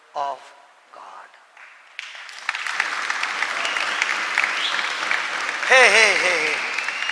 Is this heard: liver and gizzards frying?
no